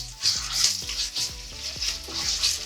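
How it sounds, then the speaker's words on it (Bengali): Ginger and green chilli paste fries lightly in hot oil, giving a steady close sizzle with soft bursts of crackle as it is stirred, and no voices. "হালকা ভেজে নেব।"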